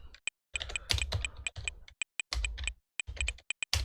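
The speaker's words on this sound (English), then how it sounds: "I apologise if my keyboard is really loud." Rapid clicking of a computer keyboard in bursts, close and fairly loud, with short pauses between runs of keystrokes and no talking.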